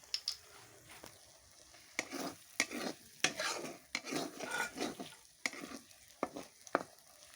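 Egg and chana dal cooking in oil in a pan, with extra oil just added: steady close sizzling and crackling, broken by repeated sharp clinks and scrapes of a spatula stirring against the pan, no voices.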